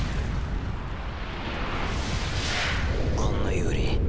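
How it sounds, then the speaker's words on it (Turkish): Nuclear bomb blast in Call of Duty Modern Warfare 3, a massive, continuous rumbling roar that stays loud throughout with a rising whooshing surge, while a faint voice speaks near the end. "Nükleer bomba."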